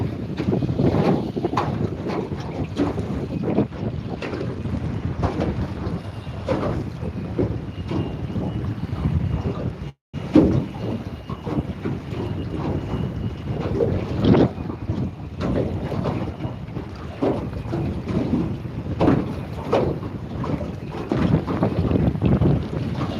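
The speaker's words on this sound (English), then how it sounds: "Damn this wind." Strong wind buffeting the microphone on a fishing boat out at sea, with constant rumbling gusts and water and hull noise, loud and sustained for the whole stretch apart from one brief dropout.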